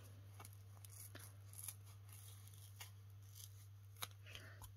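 Quiet close snips of scissors trimming a rubber stamp mount, a scattering of short crisp cuts at irregular intervals over a steady low electrical hum.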